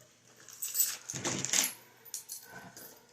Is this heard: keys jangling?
yes